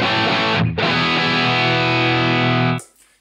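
Electric guitar through a Marshall JCM 800 amp model on a Line 6 Helix, a loud distorted chord that rings, is briefly re-struck, sustains for about two seconds and is then cut off, with a short decaying tail.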